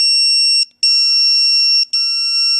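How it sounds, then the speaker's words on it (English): A traditional pager alert rings out as a loud, steady, high electronic tone, broken by two brief gaps, with nothing else around it. "the more traditional pager sound."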